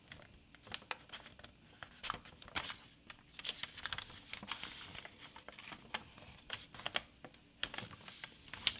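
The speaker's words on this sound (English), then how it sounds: "Find the intersection and fold it right along that." Paper being creased and folded into an origami turtle, a quiet close-up run of soft crinkles, taps and rustles with irregular rhythm and no voices.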